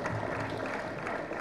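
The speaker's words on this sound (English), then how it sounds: "so can you clap for him?" Soft, distant applause from an audience at an engineering lecture, a continuous patter of clapping at low volume with no voices over it.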